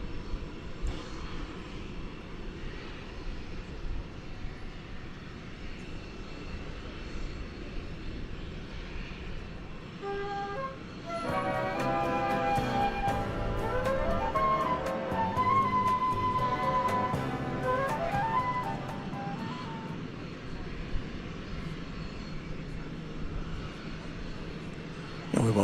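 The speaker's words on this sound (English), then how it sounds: "Big Dreamliner is now going to make the turnaround for its departure to Sydney" A Boeing 787 Dreamliner airliner turns around at DFW Airport before leaving for Sydney, its engines a steady distant hum that swells midway with a rising whine, then settles back.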